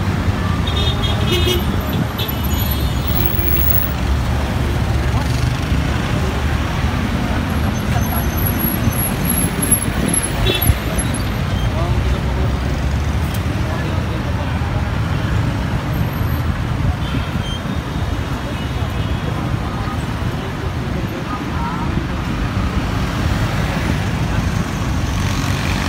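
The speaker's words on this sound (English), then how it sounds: "Morning Manila traffic." Morning traffic in Manila: a steady wash of car and bus engines rolls past continuously, with several short horn toots cutting through near and far.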